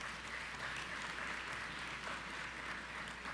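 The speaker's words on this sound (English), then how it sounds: "give the Prime Minister another round of applause" Audience applause at a national honours and investiture ceremony, a steady, dense wash of many hands clapping at even loudness throughout, with no voices standing out.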